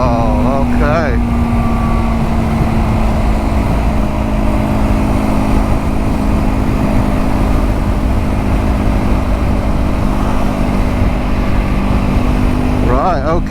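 A Triumph Scrambler 400 X motorcycle cruises at 70 mph in sixth gear with a loud, steady engine drone buried under constant roaring wind rush.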